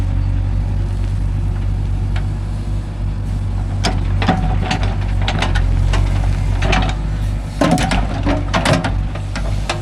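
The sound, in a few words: JCB 3DX backhoe folding its boom while loading soil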